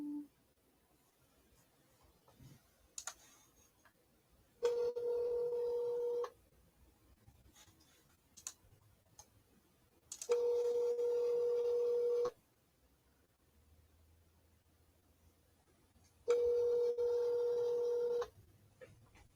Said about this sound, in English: Can you guys hear the ringing at least?